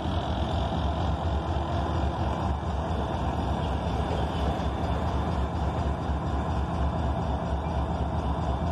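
A steady, loud rumble of a train passing a level crossing fills the whole stretch, continuous and close, with no clear breaks or voices.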